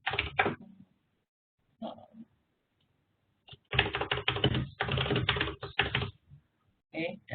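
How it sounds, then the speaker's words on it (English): Fingers type on a computer keyboard in uneven bursts of rapid clicking. Pauses of silence separate the bursts, and the longest run of keystrokes lands near the middle. "So I'm just going to type in something."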